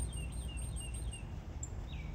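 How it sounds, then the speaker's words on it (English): Faint birds chirp in the distance, a few thin high tweets over a low steady background rumble. "all I heard was birds"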